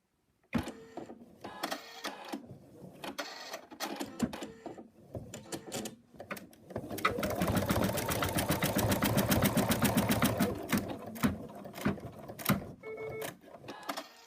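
Embroidery machine stitching an in-the-hoop moose design, a steady close rapid mechanical chatter that starts after a few scattered clicks and handling noises, then runs continuously for several seconds before tapering off.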